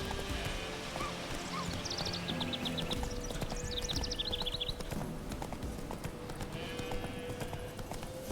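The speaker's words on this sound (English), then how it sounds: "Then again, we can just grab our horse." Rhythmic horse hoofbeats clip-clop at a steady trot in The Witcher 3: Wild Hunt, under ambient outdoor game sounds, with brief bird chirps scattered above.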